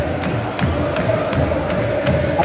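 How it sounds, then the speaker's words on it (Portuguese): Vasco football supporters chant together in a stadium while their team trails 5-1 in a derby, a dense, steady crowd roar with rhythmic swells pulsing through it. "Olha a torcida do Vasco"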